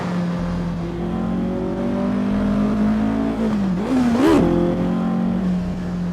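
Car engine in a driving simulator game revving, a sustained tonal engine drone that climbs and drops with quick throttle blips near the end, heard alone without voices.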